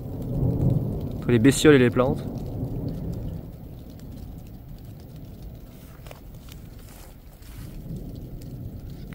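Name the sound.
thunderstorm with rain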